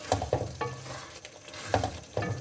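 Mash daal roasts in a pot, a soft sizzle under quick stirring scrapes and spoon taps, close and brief with no talking.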